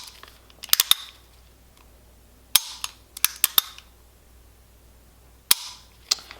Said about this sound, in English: Go ahead and dry fire a couple times.